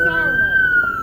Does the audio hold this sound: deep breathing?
no